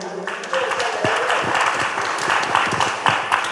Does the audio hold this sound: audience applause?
yes